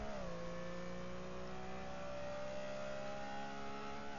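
Porsche 906 racing car engine in GT Legends on the Nordschleife, a sustained high-revving drone that dips briefly at the start and then climbs steadily, close and continuous with no talk.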